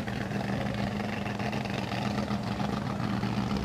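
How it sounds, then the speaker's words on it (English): A K Racing runabout boat's alcohol-burning blown motor running in the pits, a steady, loud low idle rumble with a rough, throbbing texture that continues throughout. "Ooh, I hear a K Racing runabout starting in the pits."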